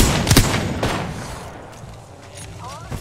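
Loud revolver gunfire bursts from the video game Apex Legends, a couple of sharp booming Wingman shots at the start followed by a lighter shot, with chatter and game noise trailing after.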